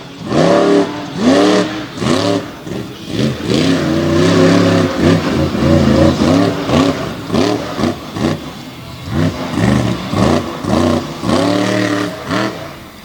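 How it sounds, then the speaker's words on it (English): A monster truck at a Renegade monster truck tour show in Greensburg, Pennsylvania revs hard through a big sky wheelie. The loud engine surges up and down in repeated bursts close by with no talk. "he starts things off with a big sky wheelie."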